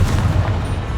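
Confringo spell blast in the video game Hogwarts Legacy, a loud, dense booming explosion that fills the whole short moment.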